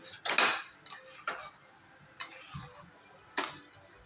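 A spoon scrapes and clinks against a pan while sooji halwa of semolina and ghee is stirred over low heat, producing a few sharp, sparse metallic knocks separated by quiet gaps, with no talking.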